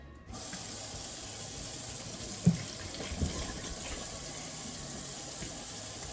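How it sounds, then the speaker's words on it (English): Kitchen tap starts and runs steadily while hands are washed, a close, even gush of water into the sink with a couple of faint knocks partway through, no voices. "let's start with our number one step, which is to wash our hands"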